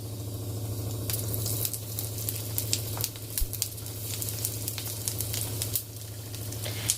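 Half a spoon of cumin seeds and a spoon of asafoetida sizzle in a little hot oil for chana dal kachori, a close, steady frying hiss scattered with sharp crackles and pops.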